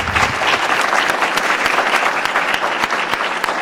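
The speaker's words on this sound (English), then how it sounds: "please join me in giving one additional round of applause to our entire panel" An audience at a panel Q&A gives a steady round of applause, dense continuous clapping lasting throughout, fairly close and loud with no talk over it.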